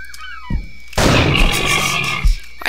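Gunfire in the video game Poacher, a few sharp bursts followed by a longer roaring blast, loud and close against a steady game soundscape.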